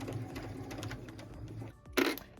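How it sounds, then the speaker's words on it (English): A sewing machine stitches a quilted stocking, stitching forward and then back-stitching, with a close, fast mechanical whir and a brief louder clatter near the end. "I'm going to stitch forward a couple, back stitch, and then stitch forward"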